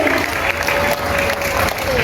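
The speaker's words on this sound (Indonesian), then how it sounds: "Beri tepuk tangannya sekali lagi buat presenter kita kali ini." Audience clapping for the presenter at an Islamic boarding school hall inauguration and Independence Day reception, a dense steady patter with a faint held tone running beneath it.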